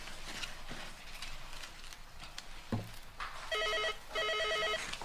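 An indoor telephone bell rings in two short, repeated trilling bursts near the end, after a few soft footsteps and room noises, fairly quiet overall and with no talk.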